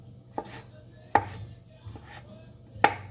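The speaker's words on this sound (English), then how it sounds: "Alright, I'm going to cut up my mushrooms." A kitchen knife slicing mushrooms on a cutting board, four sharp chops spaced irregularly over a quiet background, the second and last the loudest.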